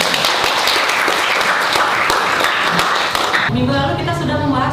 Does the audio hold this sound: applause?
yes